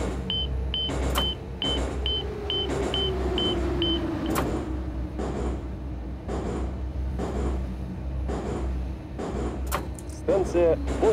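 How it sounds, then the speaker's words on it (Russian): A Moscow metro train, model 81-717, in a simulator game on the Zamoskvoretskaya line: a repeated door-closing chime of beeps, then the doors thud shut and the motor whines up as the train pulls away, with a steady rumble throughout. "Осторожно, двери закрываются."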